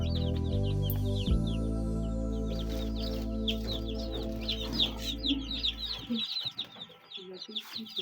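Chickens on a small poultry farm cluck and chatter continuously, with a low steady hum underneath for most of the stretch before it thins out into scattered, closer clucks.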